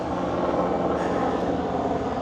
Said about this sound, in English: And there's that helicopter, once again testing my audio quality.